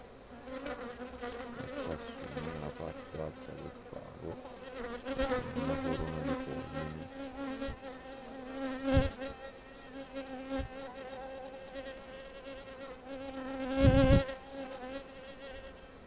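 Honeybees in a hive tending an unmated queen give a dense, continuous buzzing hum close up, with wingbeat drones swelling and fading as individual bees pass near.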